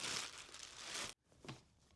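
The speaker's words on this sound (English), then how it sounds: "And then the Wave's going to come in this plastic bag." A plastic bag holding a Polar Care Wave cold compression unit crinkles loudly and continuously for about a second, then drops off, followed by a softer rustle.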